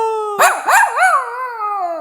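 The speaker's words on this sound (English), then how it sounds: "You're the guard dog!" A dog on guard duty at a family home gives a couple of sharp barks that slide into a wavering, drawn-out howl, close and loud, with no other sounds around it.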